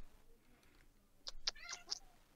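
Short cat meows from the video game Amberlands, three or four bright mews in quick succession, fairly faint against a quiet game background.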